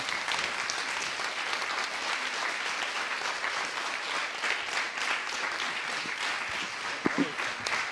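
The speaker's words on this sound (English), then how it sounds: "let's give them a round of applause" Sustained applause for the hosts at the closing session of a conference in Prague, an even wash of many clapping hands heard from across a large room, with a couple of sharper claps near the end.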